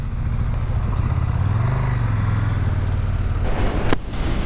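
KTM Super Duke GT 2019 motorcycle engine pulling strongly during a ride, a steady deep throaty drone whose pitch climbs and then eases off, loud and close, with wind rush and no talk.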